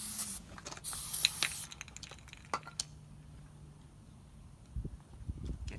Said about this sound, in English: Take your starter fluid, spray a little more here